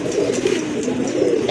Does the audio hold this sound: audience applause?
no